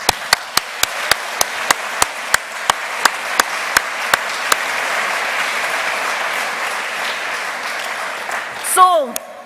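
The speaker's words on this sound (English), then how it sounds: "Please give yourself a huge round of applause." Graduates and guests applaud at a college graduation ceremony, opening with sharp, evenly spaced claps over a broad crowd wash that holds steady before fading, followed by a brief electronic warble near the end.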